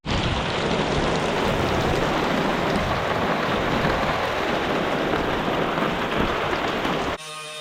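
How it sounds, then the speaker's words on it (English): Heavy rain pours down in a dense, continuous hiss, loud and unbroken for several seconds before cutting off abruptly. "It's pouring down rain again today."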